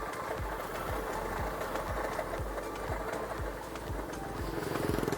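A broken motorcycle engine idling roughly with a steady knocking, close and fairly loud, its even thudding pulses repeating a few times a second throughout with no speech.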